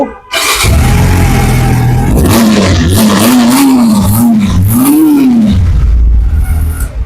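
A Pilder V4 motorcycle engine revs loudly and repeatedly, its pitch rising and falling in several throttle blips over a steady rumbling idle, close by.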